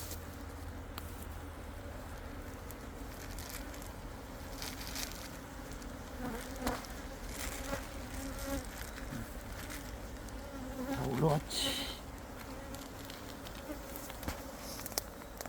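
A dense, continuous buzzing of many Korean native honeybees fills the scene at a steady level, with occasional hive-handling knocks and a brief louder rustle midway.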